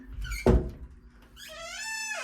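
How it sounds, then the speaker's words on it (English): Squeaky door hinge in need of oil: a soft thunk, then a drawn-out rising creak as the door swings, close and fairly quiet in a still room. "Apparently I need some WD-40 on that door"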